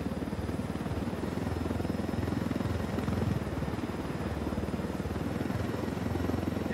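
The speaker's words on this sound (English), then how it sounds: "I told Griffin I could figure out how to fly this thing. Qualify for planes. But not choppers" A helicopter in the video game Ghost Recon Wildlands gives a loud, continuous rotor chop and engine drone throughout, with no voices.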